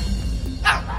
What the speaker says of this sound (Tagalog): Maski ang kahol ng aso, kayang-kaya nitong gayahin.